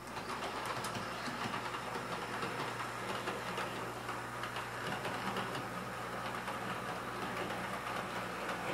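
A small DC model train runs on an automatic reversing shuttle track, giving a faint, steady motor hum and soft continuous rolling rumble throughout, with no talk.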